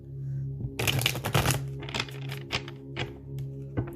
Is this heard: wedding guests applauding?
no